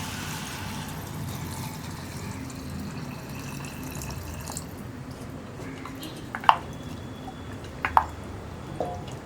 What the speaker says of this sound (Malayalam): ഇനി നമുക്കിതിലേക്ക് ഈ വെജിറ്റബിൾസ് കുക്കാവാൻ ആവശ്യമായ വെള്ളം ചേർത്ത് കൊടുക്കാം.